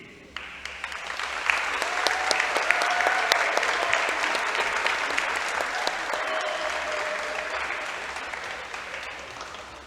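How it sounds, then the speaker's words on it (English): A crowd in a gym at a women's basketball game breaks into sustained applause, many hands clapping at once, swelling early and then holding a broad, steady roar, with a few whistles or cheers rising above it. "Let's give one more round of applause for Caroline Summerford Peyton and all of the breast cancer survivors"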